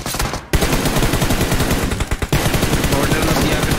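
Rapid automatic gunfire from the battle royale game BGMI, loud bursts of close-range shots that cut out briefly and resume, with a voice talking faintly underneath.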